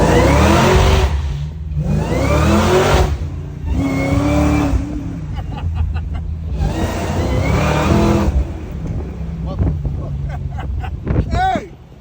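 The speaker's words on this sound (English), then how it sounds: "We got that good Caprice Classic with that good motor" A Chevrolet Caprice Classic engine revs hard in loud, repeated bursts, each pull rising and falling in pitch, with short pauses between the throttle blips and a final quick rev at the end.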